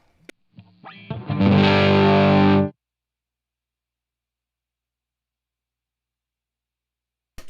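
A single distorted electric guitar chord, played with reverb and the low cut off, rings out for about two seconds, then cuts off abruptly into silence, with a few quick picked notes just before.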